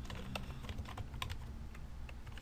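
Key clicks from a computer keyboard as a password is typed at a desk during a login setup, a steady run of light, irregular taps close by with no talk.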